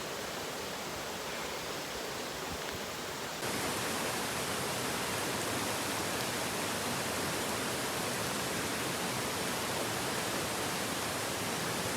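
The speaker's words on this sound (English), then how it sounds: "I'm just gonna hang out here in the rain." Steady outdoor rain hisses as a broad, even wash of noise on a wet trout-stream day trip, with no voices; it grows noticeably louder and denser after the first few seconds and stays constant.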